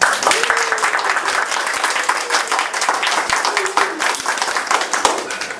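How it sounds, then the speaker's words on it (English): A room full of people claps steadily, a dense, sustained round of applause that stays fairly loud throughout before easing slightly at the end. "Big applause again."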